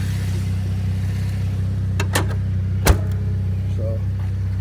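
2013 Cadillac CTS fitted with a K&N cold air intake and X-pipe, idling with a steady low engine hum, interrupted by a couple of sharp clicks or knocks partway through.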